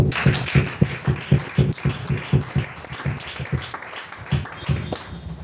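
A church congregation claps together in a steady, rhythmic beat, many hands sounding close and lively, with the pattern loosening near the end.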